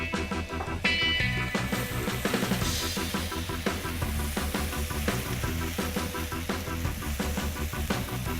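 Potatoes browning over high heat in a pan, a steady, close, continuous sizzle and crackle with occasional stirring scrapes, no talking.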